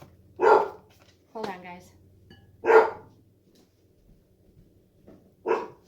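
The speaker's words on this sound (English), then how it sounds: "what's she barking at?" A dog barks outdoors in sharp, loud single barks, four in all spread over a few seconds, with a brief spoken remark between them.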